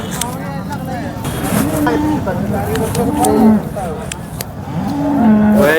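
Cows moo loudly and repeatedly at the Sangola cattle market, several long calls close by over a crowded background with people talking.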